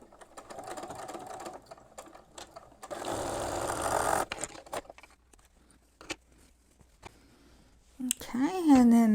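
A sewing machine joins Stack 'N Whack–style quilt blocks, two by two into fourths, in a steady run of stitching, with a person talking before and after it.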